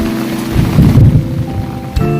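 Heavy rain pours down steadily with low rumbling thunder swelling in the middle, a close, loud, continuous storm with no voices.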